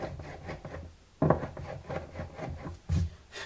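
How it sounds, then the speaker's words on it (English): A hand tool is twisted back and forth inside a bridge pin hole of a Martin HD-28 guitar, making soft rhythmic wooden rasping strokes close up, with a few louder scrapes between quieter rubs. "put it in the hand tool, and I just spin it backwards a couple times"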